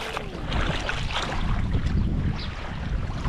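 A speedboat out on the water at a beach in Bahrain, its engine a distant rumble blended with steady wind buffeting the microphone and the wash of the sea.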